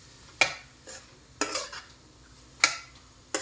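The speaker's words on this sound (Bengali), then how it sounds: "আমরা পেঁয়াজ রসুন দিয়ে বাগার দিয়ে ফেলেছি। এখন ভালো করে মিক্স করেন," A spoon scrapes and knocks through an onion and garlic tempering in a pan, a few sharp separate strokes over a faint, steady sizzle, with no talking.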